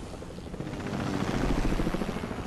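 Helicopter in a video game, a close rotor thump and engine whine that builds slightly and holds steady over a few seconds, with no talking.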